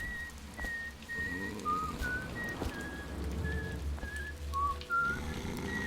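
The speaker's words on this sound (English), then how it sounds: "he's whistling that song I sang way back when" A character in the video game Dishonored whistles a slow tune alone, clear melodic notes rising and falling over a quiet, dark ambient background, with soft background thumps.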